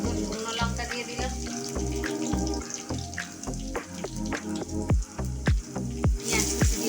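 Dried red chillies, black cumin and garlic paste sizzle in hot oil: a steady, close frying hiss runs throughout with brief crackles, over a rhythmic low background.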